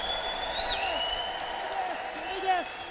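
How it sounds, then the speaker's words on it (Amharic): A church congregation applauds under a preacher's loud voice, with steady clapping running throughout and no clear ululation standing out. "ከዚህ በላይ እልልታና ጭብጨባ።"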